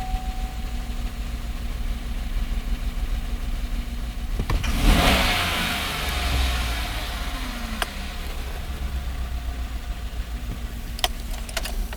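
Car engine idling steadily during an in-cylinder pressure test, then a single snap of the throttle that briefly rises into a loud rev before settling back to idle, with a few small clicks near the end.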